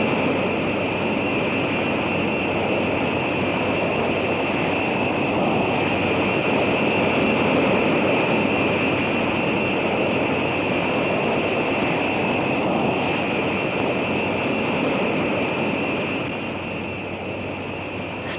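An X-15 rocket plane in flight gives a continuous, even roar with a steady whining tone on top, unbroken for the whole stretch and easing off slightly near the end.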